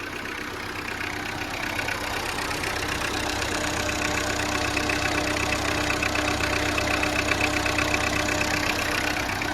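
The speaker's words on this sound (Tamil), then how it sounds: "இந்த வண்டி வந்து பார்த்தீங்கன்னா ஒரு 2005 மாடல் டாடா இண்டிகா, இது டீசல்." A diesel 2005 Tata Indica car engine that is overheating, with its coolant boiling, runs at a steady idle close by, giving a continuous rough hum with a faint knocking texture and no talk.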